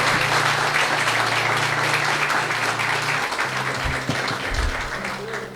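Church congregation applauding during a sermon, a dense continuous wash of clapping with a low sustained tone underneath and faint voices mixed in.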